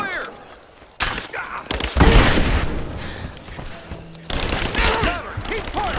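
Heavy gunfire in Rise of the Tomb Raider, loud bursts of automatic shots and booms throughout a chaotic firefight, with shouted voices mixed in.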